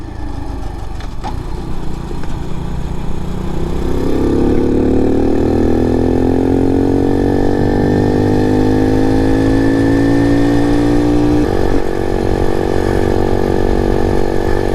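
A Honda CT70 clone mini bike engine launches wide open, its small single-cylinder note climbing steadily in pitch for several seconds before a brief dip at the shift, loud and close with no talk.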